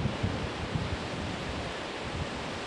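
Storm-driven waves and surf crash along the California coast, a steady, loud broadband roar of churning water with small surges, no voices.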